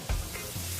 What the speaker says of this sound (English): now that our oil is hot and the butter is sizzling,